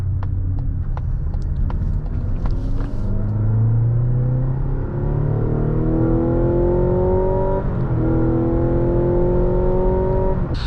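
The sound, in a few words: Mazda CX-90 PHEV driving in EV mode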